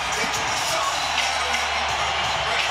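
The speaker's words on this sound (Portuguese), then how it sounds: "Sendo aplaudido de pé pelo público presente aqui no MGM Grand Garden Arena" A dense, steady roar from the MGM Grand Garden Arena crowd applauding and cheering on its feet for a UFC fighter's entrance, loud and continuous with faint voices mixed in.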